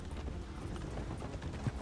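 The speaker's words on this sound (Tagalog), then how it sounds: "May kabayo ulit May kabayo." Hooves clip-clop at a steady walking pace, moderately close, over a low background rumble, with no voices.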